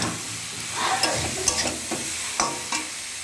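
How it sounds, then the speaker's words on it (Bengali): Spices with salt and turmeric are stir-fried in a pan for a bata fish curry with potato and green banana, giving a steady moderate sizzle marked by several sharp scrapes and taps of a stirring spoon. "দিয়ে দিলাম হলুদ। এবার কষাবো ভালো করে।"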